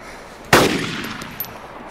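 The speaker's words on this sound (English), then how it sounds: "I just shot at him." A single sharp gunshot in the video game Arma 2 DayZ Epoch, loud and close, then a decaying echo tail and a faint second report.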